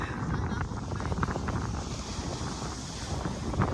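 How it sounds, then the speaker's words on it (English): Strong wind roars and buffets the microphone on Clearlake in a continuous loud rush, with water movement mixed in. "that very strong wind"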